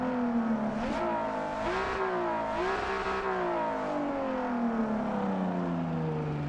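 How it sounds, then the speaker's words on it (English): A racing car's engine drones and revs in TDU Solar Crown, pitch rising and dipping through gear shifts before settling into a long, steadily falling whine, loud and continuous with no talk. "the car sound somehow sounds better than Forza Horizon 5."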